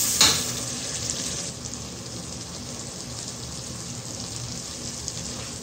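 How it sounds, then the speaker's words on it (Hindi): Curry masala of onion and tomato for a desi chicken curry fries while a spoon stirs it, a steady hissing sizzle after a brief louder burst at the start, close and even. "मसाले को मैं 7-8 मिनट देने हैं और साथ साथ मैं इस तरह चमचा भी चलाती रहूँगी"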